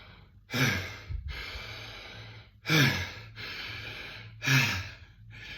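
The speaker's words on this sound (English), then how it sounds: "So a forced exhale might be something like this" Three forced exhales, demonstrated during a conscious connected breathing breathwork session, each a sharp, close, breathy burst about two seconds apart, with quieter inhales between them.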